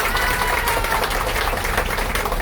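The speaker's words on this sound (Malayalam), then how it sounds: "അവർക്ക് നല്ലൊരു കൈയ്യടി കൊടുക്കുമോ?" Applause from an audience aboard a houseboat on the water in Alappuzha, Kerala, with dense, loud, continuous clapping filling the short moment and a faint crowd murmur underneath.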